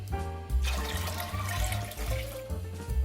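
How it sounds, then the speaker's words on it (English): Water poured into a cooking pot of Jamaican rice and peas seasoned with ginger and pimento seed, a steady splashing gush that runs continuously for a few seconds, close and fairly loud. "Pour in your water. Be sure to add lots of water."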